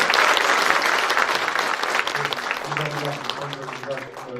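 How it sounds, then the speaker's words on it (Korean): A hall audience at a Seo-gu district office anniversary citizen forum in Incheon claps loudly to welcome a speaker to the stage. The clapping thins and fades as a voice starts talking over its tail. "큰 박수로 맞아주시면 감사하겠습니다."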